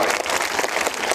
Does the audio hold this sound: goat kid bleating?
no